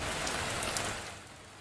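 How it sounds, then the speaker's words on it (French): Steady rain falling on a sloped roof, heard from an insulated attic room, a soft, muffled hiss of drops that stays even throughout and grows slightly quieter toward the end. "On n'entend presque plus le bruit de la pluie."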